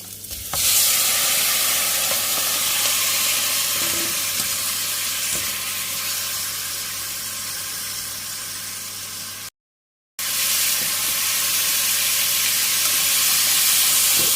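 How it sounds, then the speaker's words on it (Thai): Pork belly stir-frying hard over high heat in a small pot, a steady loud sizzle and hiss with stirring scrapes, broken by a short gap of silence before the frying continues. "นี่ค่ะคั่วหมูไฟแรงๆหน่อยนะคะ จะให้ตัวหมูเขาเหลืองๆนะคะ"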